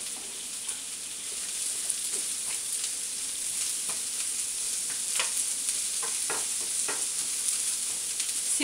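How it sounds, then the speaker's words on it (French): Onions sizzle steadily in hot oil in a frying pan, a close continuous crackle with occasional stirring scrapes, and no voices. "on va faire revenir nos oignons jusqu'à ce qu'ils blanchissent, commencent à prendre de la couleur"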